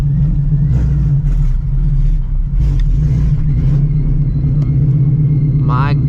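Engine of a 900HP Shelby GT350 with a manual clutch, rumbling loud and close at idle as the car pulls up, a steady low drone throughout with brief uneven surges.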